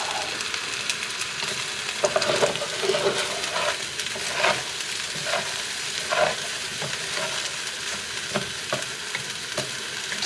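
Fried rice sizzling and frying steadily in a hot copper chef pan, with a dense crackle throughout and occasional scrapes of stirring, close and fairly loud with no voices.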